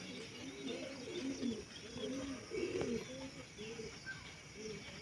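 Pigeons coo in repeated rounded phrases, steady and fairly close, with a soft rhythmic pulse throughout and faint chirps above.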